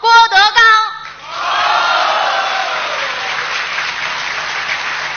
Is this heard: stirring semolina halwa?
no